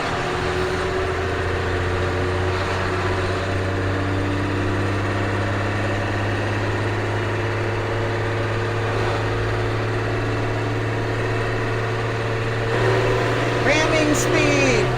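A CF7000 truck's 6.6L diesel engine, in Brazil, runs on a cold-start drive: a steady, close, low droning rumble throughout, swelling slightly louder near the end.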